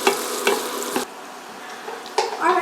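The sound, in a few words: stirring vegetables sizzling in a pot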